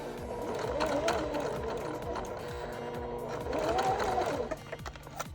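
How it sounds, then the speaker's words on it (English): A sewing machine stitches slowly through fabric for a bag, giving a steady close mechanical whirr with rapid needle ticks that runs continuously, then eases off near the end. "I'm going to just sew slowly."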